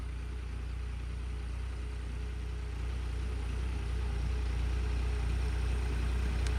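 A Swaraj 3630 tractor engine runs steadily nearby in third gear, a constant low rumbling drone with no voices.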